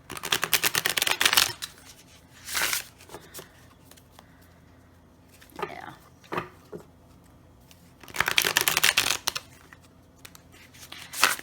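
A Pip tarot-style card deck being shuffled up close: two crisp bursts of riffling cards, with scattered soft handling clicks and rustles in between.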